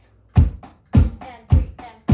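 A basic drum beat plays with bass drum, snare and hi-hat, sharp hits in a steady rhythm about every half second, close and fairly loud, with no talk.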